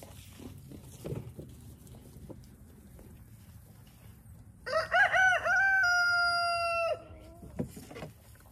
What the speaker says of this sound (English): There's my gray rooster coming to intimidate me. It's a lavender Americana.